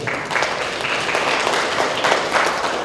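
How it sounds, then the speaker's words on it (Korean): Symposium attendees at a rock-inscription research event in Jangheung clap for a staff member, a moderate, steady patter of hands throughout with some louder individual claps standing out. "이종만 사무국장 박수 한번 주십시오."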